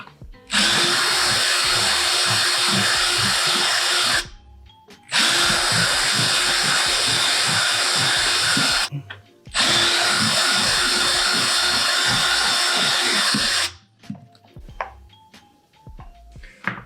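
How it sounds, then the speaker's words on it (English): A power drill whines loudly in three long bursts, each running several seconds with brief pauses between, as holes are enlarged with a bigger drill bit, followed by quieter clicks and handling noises. "So now I gotta make these bigger. It's a different drill bit."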